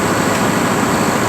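An 875 track tractor's engine running nearby, a steady, loud, heavy low rumble that holds evenly with no breaks and no voices over it.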